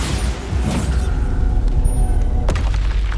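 A Bombarda explosion spell blast in the video game Hogwarts Legacy, a deep rumbling boom sustained under a low roar, followed by a sharp crack near the end.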